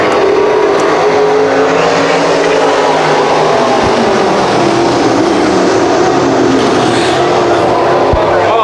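Late model race cars at a speedway accelerating together at the race start, a loud, dense engine roar that stays steady from start to end and swells slightly as the pack passes.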